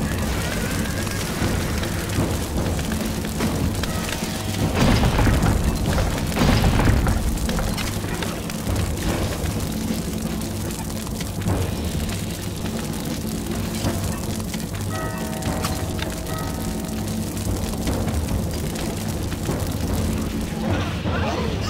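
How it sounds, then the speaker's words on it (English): Buildings burn during a battle in Stronghold Crusader amid a dense, constant roar of fire, rumbling booms and crashes, loud and unbroken throughout. "Buildings are on fire, sire."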